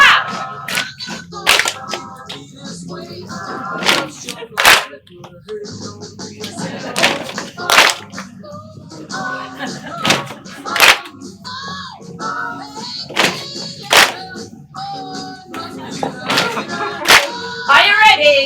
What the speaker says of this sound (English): Tap and clap.